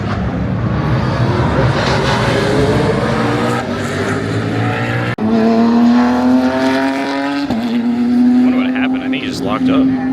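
A TransAm race car screams past with strained engine harmonics, then locks up under heavy braking, a sustained tire squeal rising over the loud engine roar throughout, with people talking underneath.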